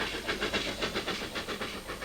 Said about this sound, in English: The chance to drive the very last Pines Express with Evening Star, the last steam engine built by British Rail.